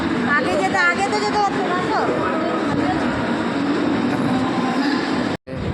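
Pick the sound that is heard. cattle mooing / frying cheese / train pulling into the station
train pulling into the station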